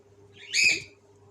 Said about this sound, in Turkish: Bakın şöyle yeşil bir kuş.